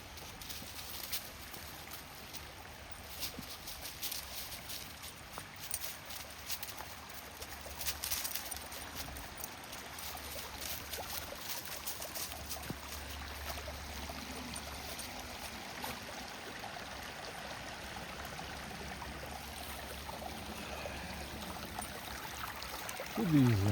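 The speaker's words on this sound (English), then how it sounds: "A little waterfall there." A small waterfall at a stream crossing on the Bigelow Hollow and Nipmuck Trail, pouring as a steady, close rush of water that fills the whole stretch with no voices, then swells louder at the very end.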